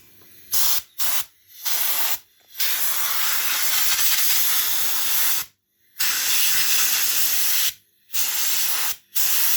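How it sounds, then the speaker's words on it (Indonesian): Compressed air from an air compressor blasts in long, loud hissing bursts to clean motorcycle fuel injector and throttle sensor parts from a Honda Vario 150, broken by several short pauses. "Kita semprot dengan kompresor ya teman-teman, biar bersih, dan nanti kita pakai kembali ya."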